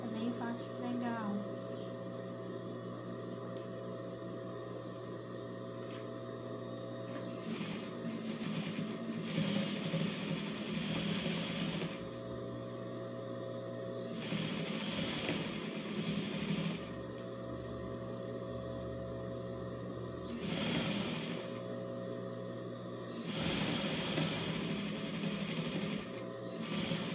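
An overlock sewing machine stitches a sleeve onto a finished blouse, running in several steady whirring bursts with pauses between them, fairly quiet and close, while someone talks over it.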